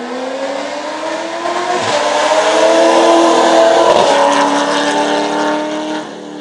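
A Dakar 2015 rally car races past on a rural road in northern Córdoba province, Argentina: its engine note climbs and swells as it nears, peaks loud mid-pass, then drops away with gear shifts as it recedes.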